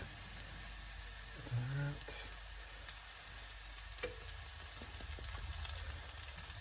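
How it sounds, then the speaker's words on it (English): Garlic frying in oil in a pan for sesame chicken, a faint continuous sizzle with light stirring taps and a brief clatter, no talk. "Make sure you move the garlic around so it doesn't burn at the bottom."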